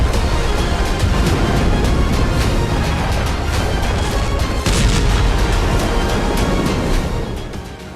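Dense, continuous roar of heavy gunfire and booming blasts at sea, Russian fire on Ukrainian uncrewed surface vessels after an explosion, over a rumbling wash, loud and sustained, easing off near the end.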